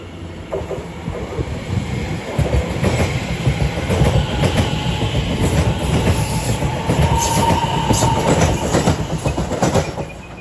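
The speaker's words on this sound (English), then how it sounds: "As off goes the delayed 1708 Greater Anglia service to London Liverpool Street." A delayed Greater Anglia passenger train to London Liverpool Street pulls out of Shenfield station on the Great Eastern Main Line, its steady rolling rumble and wheel clatter building and holding loud and close with no talking.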